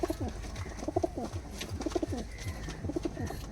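Several teddy pigeons, mostly hens, coo in repeated, rolling bursts close by in a loft, layered over a steady background hum with a few faint chirps.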